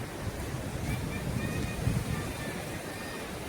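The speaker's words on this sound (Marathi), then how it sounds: "खूप सुंदर बीच आहे हा" Ocean surf rolls in at Devbag beach in Malvan as a soft, continuous wash of waves with wind buffeting the microphone. Faint voices can be heard in the background.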